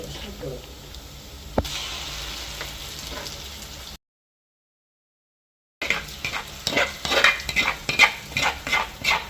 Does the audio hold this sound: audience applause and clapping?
no